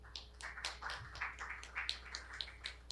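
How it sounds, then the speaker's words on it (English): Sparse, quiet applause from a lecture audience welcoming neuroscientist Martha Farah to the podium, with uneven individual claps spread across a few seconds. "A big round of applause."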